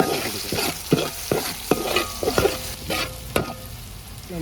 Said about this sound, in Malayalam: ഇത് നല്ലപോലെ ഒന്ന് പച്ചിപ്പൊന്ന് മാറാനായിട്ട് ഇളക്കി കൊടുക്കുക.